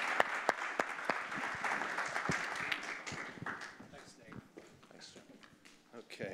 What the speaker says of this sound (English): So let's give Jim a warm round of applause and welcome him.